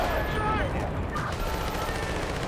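Heavy gunfire from an M95 sniper rifle, an MG3 machine gun and shotguns in the Battlefield Bad Company 2 video game, a dense, continuous barrage of loud shots and echoing blasts with voices sounding through the mix.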